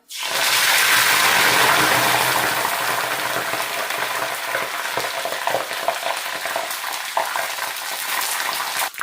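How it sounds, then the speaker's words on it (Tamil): Curry leaves frying in hot oil for Sri Lankan masi sambal, a loud, continuous close-up sizzle and crackle that stays steady throughout with scattered pops. "இப்போ நாங்கள் இந்த எடுத்து வச்சிருக்கிற கருவேப்பமிலையை முதல்ல போட்டு பொறிச்செடுப்பேன்"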